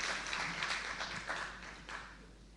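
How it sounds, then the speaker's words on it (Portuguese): An audience gives applause at a public debate on water fluoride, a faint, distant wash of clapping that swells in a few waves and then tapers off. "pedir forte aplauso para Dr. Professor"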